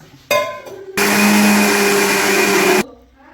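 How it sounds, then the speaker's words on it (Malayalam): Mixer grinder blending unniyappam batter with a little water, a short burst followed by a steady loud whirring run of about two seconds, then abruptly stopping, close and alone. "കുറച്ച് വെള്ളം ഒഴിച്ചിട്ട് അരച്ചെടുക്കാം"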